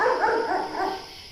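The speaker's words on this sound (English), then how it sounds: "Since when does Jonas have a dog?" A dog barks in a quick series of three or four yelps from a basement room, close and fairly loud, with no talking over it.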